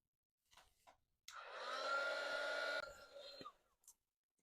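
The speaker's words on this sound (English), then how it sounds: "And then I'm going to dry it with my heat gun." A heat gun blows hot air across coffee-stained paper, a loud whirring blast lasting about two seconds that then drops to a softer hum before cutting off.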